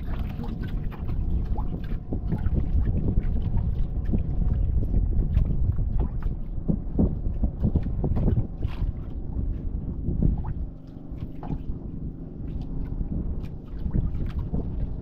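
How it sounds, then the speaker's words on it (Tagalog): A bangka boat engine rumbles steadily nearby, mixed with wind buffeting the microphone and splashing water, fairly loud throughout. "Malapit na bangka."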